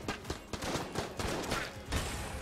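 Rapid bursts of automatic gunfire from an enemy's AK rifle in the video game Enter the Gungeon, dense overlapping shots crackling continuously for a couple of seconds with a louder blast near the end.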